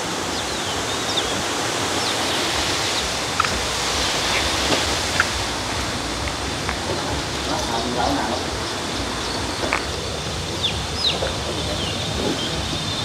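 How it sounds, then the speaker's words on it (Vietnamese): A stream swollen by flood rushes loudly and steadily as a broad, continuous roar, with faint birds calling in the background. "Suối trên kia chảy rất là to các bạn."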